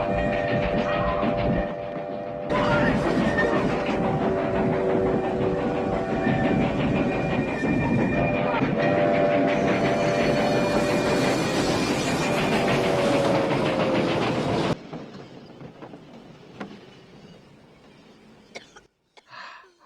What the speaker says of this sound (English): It's there! Run! Train!